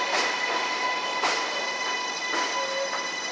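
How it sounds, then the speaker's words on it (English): A Flushing-bound 7 local subway train sits in a busy station, giving off a steady mechanical hum with tonal whines and periodic clacking thumps, heard alone without talk. "This is a Flushing Main Street bound 7 local train."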